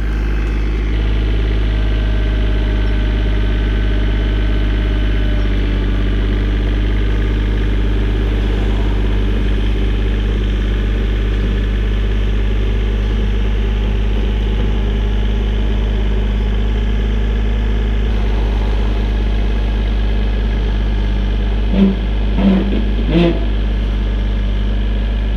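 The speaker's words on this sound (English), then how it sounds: "I got the tractor rigged so that I can pull and push." A tractor engine runs steadily with a deep, constant idle drone and low harmonic hum, close and loud throughout, while rigged to pull a 1956 Mercury M700 truck; a few faint knocks come near the end.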